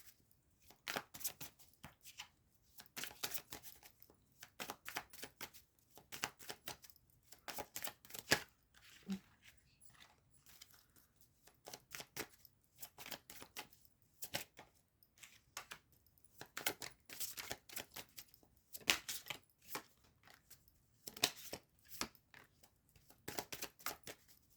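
Tarot cards being handled and shuffled close up, rapid bursts of riffling and card snaps coming in irregular clusters, quiet and with no talking.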